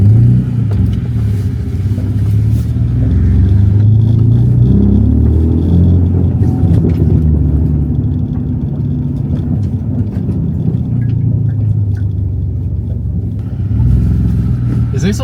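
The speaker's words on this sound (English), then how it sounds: "Let me just drive around and look." A car's engine holds a steady, loud low rumble throughout as it drives around, heard from inside the car, with slight swells in revs and muffled voices at times.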